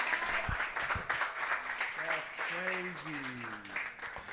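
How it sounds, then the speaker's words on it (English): An audience at a club tour event gives a round of applause, a moderate wash of clapping with a few distinct claps, while voices talk over it. "can we please give everyone in here a round of applause"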